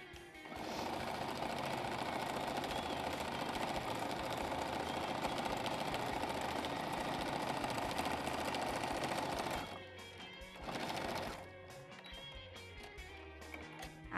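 A sewing machine stitches in a fast, steady mechanical whir for about ten seconds, then stops, gives a brief second burst, and falls quiet with light handling noises.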